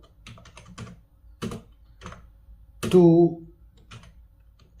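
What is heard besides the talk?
typing a letter on a computer keyboard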